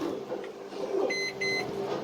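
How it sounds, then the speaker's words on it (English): A microwave oven hums steadily while heating a bar of soap, with a couple of short, high electronic beeps near the middle. "I'm going to stick it in and I'm going to microwave it."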